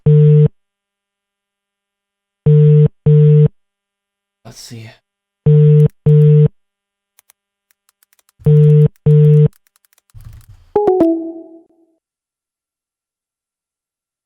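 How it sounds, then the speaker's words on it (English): Telephone busy signal on a call: paired short tone beeps repeating at regular intervals, loud and clear, with a brief spoken phrase and a few clicks between them. "Is that the line, busy signal?"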